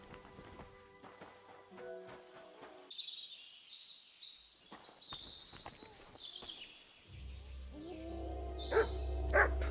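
A dog barks in the medieval game Kingdom Come: Deliverance II, with scattered, fairly distant barks among bird calls and the clip-clop of horse hooves in an outdoor scene.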